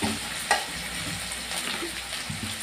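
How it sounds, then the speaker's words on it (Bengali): Whole green chilies sizzling in hot oil in a pan for a simple fish curry, a dense steady crackle with a brief pop near the start, close and continuous. "গোটা কাঁচা লঙ্কা দিয়ে দিলাম।"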